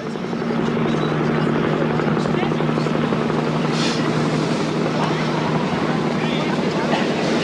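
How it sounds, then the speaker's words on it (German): A helicopter drones steadily and loudly throughout, its rotor thrum constant with a rushing, wind-like noise. "Ein Hubschrauber."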